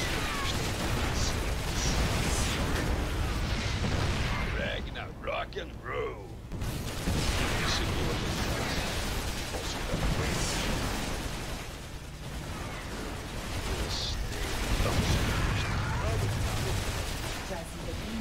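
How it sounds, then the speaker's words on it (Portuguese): Siege cannon shelling units in StarCraft 2, heavy booms and dense battle noise filling the clip, with voices talking throughout over the steady din of combat. "Tem um canhão atirando em vocês."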